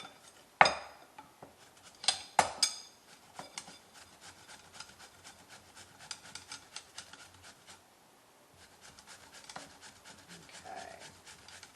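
Zucchini grated over a bowl on a hand grater: close, repeated rasping strokes at a steady rhythm, soft and scratchy, with a few louder knocks at the start and a short pause midway.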